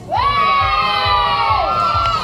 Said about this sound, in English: Boys and girls, give me a cheer if you want to win a prize!